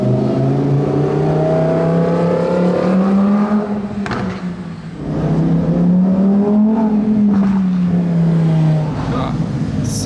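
A screaming V12 car engine revs hard at night in Monaco, pitch climbing and falling in repeated surges with a brief dip, loud and close.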